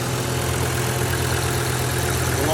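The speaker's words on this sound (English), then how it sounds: "It hasn't run for at least 6 months. That has just started up" Volvo 850 engine idling just after a cold start following months of sitting, a steady, close and fairly loud low hum with a constant throb and no talk over it.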